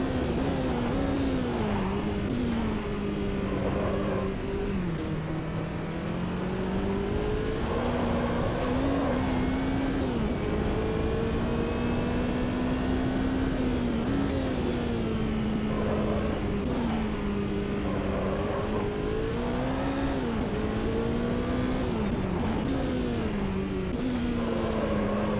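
Nissan race car engine in Automobilista 2 drones steadily and loud for the whole stretch, its pitch rising and falling through gear changes with a high turbo whine above, no talk over it.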